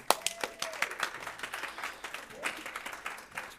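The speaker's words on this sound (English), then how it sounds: "Please give her a round of applause." A small audience at a public library lunch talk gives a brief round of applause for an introduced speaker, light and scattered at moderate distance, with a voice speaking over it.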